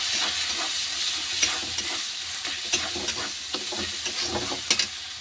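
Egg curry masala with salt, turmeric and chilli powder, stirred in a frying pan. A close, continuous sizzle is broken by repeated spatula scrapes and taps at an uneven rhythm, with no talking.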